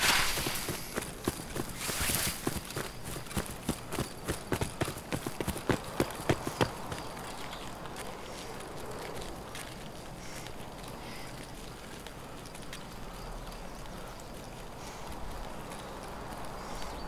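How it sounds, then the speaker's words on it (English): Rhythmic hoofbeats of galloping horses in Escape From Tarkov, quick clip-clop strikes that are sharp and prominent at first, then fade into a softer, steady background rumble. "I always love the galloping horses sound."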